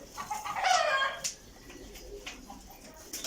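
A tumbler pigeon calls once close by, a short throaty vocalization, followed by quieter farm background with faint bird sounds.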